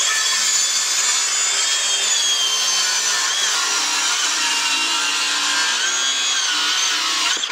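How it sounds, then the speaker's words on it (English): Circular saw ripping a wood board along a clamped straight edge while building a floating computer shelf; a steady, loud whining cut holds without a break for the whole stretch, with no talking. "run my circular saw down the straight edge"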